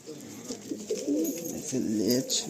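A large Nazra Kaldom pigeon, held in the hand, coos in low, rolling bursts close by, with soft background noise and faint voices around it.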